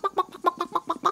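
A hen clucks close by in a rapid, even series of about six short clucks, with nothing else heard.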